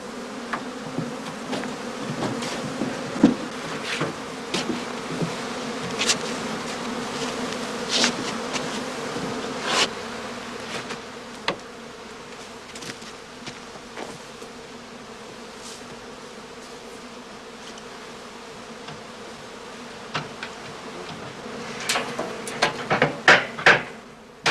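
Honeybees buzz continuously around straw skeps in a heather-season apiary, a dense steady drone with occasional close bees flying past and faint wooden knocks and clatter near the end.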